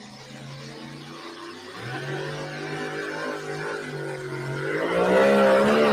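The Relentless pro stock pulling truck at a Wisner, Nebraska truck pull roars loud and close, its engine note rising and climbing steadily in pitch through the pull.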